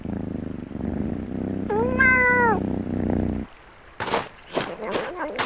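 A cat in the video game Knight's Path lets out one clear, tonal meow, set over a low droning background, followed by several short noisy bursts after a brief pause.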